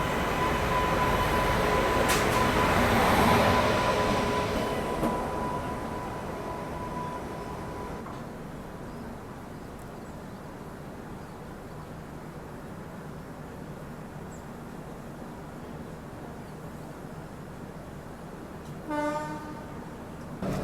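Subedarganj Dehradun Express pulling out of a station after a reversal: a loud rumble with a horn blast early on fades into a steadier low running rumble, and a short horn sounds near the end.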